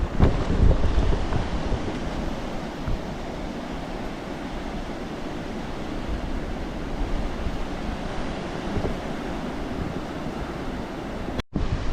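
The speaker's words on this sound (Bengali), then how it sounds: "ওইদিকে গিয়ে আমরা শুনবো সম্পূর্ণ নির্জন কোলাহল মুক্ত একটা সমুদ্র সৈকত" Surf washes steadily onto secluded Gobardhanpur sea beach at the edge of the Sundarbans, a continuous broad roar of waves mixed with gusting wind buffeting the microphone.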